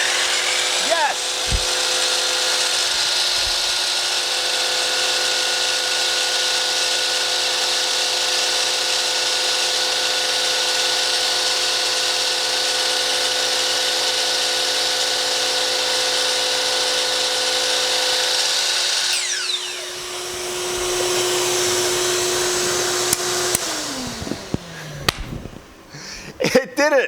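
A shop vac runs on a Growatt inverter with a loud, steady whine for most of the stretch, then a miter saw spins up and cuts with a rising motor whir and short bursts near the end.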